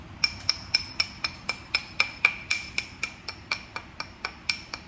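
Rhythmic, sharp stone-on-stone strikes while flintknapping Tallahatta quartzite, about eighteen evenly spaced clicks with bright ringing overtones, close and fairly loud with nothing else heard.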